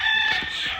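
A rooster at a poultry farm gives a brief, loud crow, heard as a short strained burst close by, alone with no speech.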